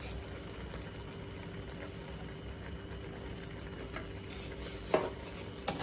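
A beet laddu mixture being stirred with sugar in a pan, a low continuous scraping and shuffling texture with a couple of sharper utensil knocks near the end, no voices.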